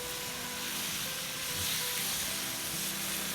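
Minced mutton keema fries in a hot pan, a steady, even sizzle and hiss that continues without a break, fairly quiet and heard alone.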